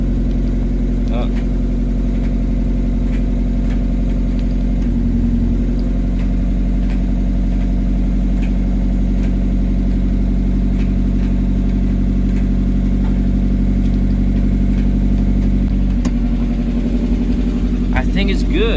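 A car engine idles steadily just after starting, a loud, even low rumble that holds throughout with occasional small revs, while a person talks nearby; checking the clutch master cylinder and gear engagement.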